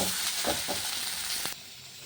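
Leaves frying in hot oil in a kadai, a loud bright sizzle with a few stirring scrapes that ends abruptly into a quieter hiss.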